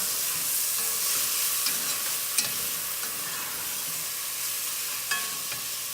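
Soaked rice and beans stirred into toasted seeds in a hot pan for kitchari, giving a steady soft sizzle with scraping stirs and occasional light clicks of the spoon.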